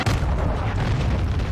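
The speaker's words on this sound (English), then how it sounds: "Hostiles launched a cruise missile." A cruise missile explosion in Call of Duty: Modern Warfare 2, a heavy, low rumbling boom that holds steady and dense across the whole brief moment, loud and close with no voices.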